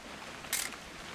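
A single quick camera shutter click from the What Remains of Edith Finch video game, a brief close snap over a faint steady background.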